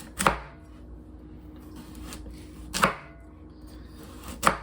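A knife slices burdock root into long angled pieces, giving three crisp, separate cutting thunks against a board, spaced a couple of seconds apart, close and fairly loud over a quiet room.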